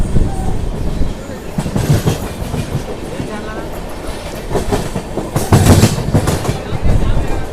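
A long-distance passenger train pulls out of Ramagundam station in India, with steady rumbling wheel and carriage noise throughout, louder surges of rattling clatter near the start and end, and some faint voices mixed in.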